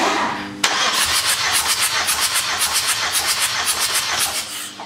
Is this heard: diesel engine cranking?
yes